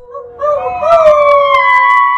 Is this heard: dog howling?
yes